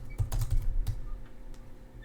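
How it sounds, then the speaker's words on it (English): Quick clicks on a computer keyboard, a short burst of close, fairly loud typing followed by a few scattered keystrokes, with no one speaking. "Cannot type today, folks."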